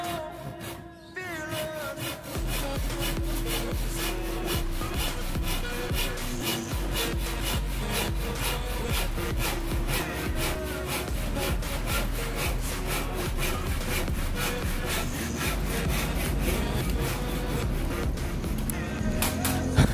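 Schlieper hand saw cutting through bamboo, with a fast, steady back-and-forth rasp of close, even strokes that continues throughout, alone without talk.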